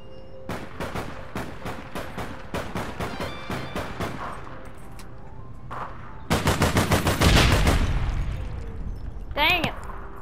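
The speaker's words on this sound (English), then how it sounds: "I'm being shot by an LMG." Light machine gun fire rattles in the online shooter APB Reloaded, with rapid regular bursts early on followed by a denser, louder stream of shots; a voice talks over part of it.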